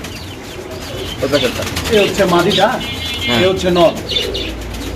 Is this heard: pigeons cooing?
yes